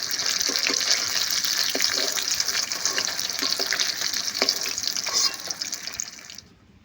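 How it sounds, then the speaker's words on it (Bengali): Lote (Bombay duck) fish frying crisp in hot oil in a pan, a loud, steady sizzle with occasional stirring clicks, fading out near the end. "মাছগুলো বেশ ভালো করে কড়া করে ভাজতে হবে"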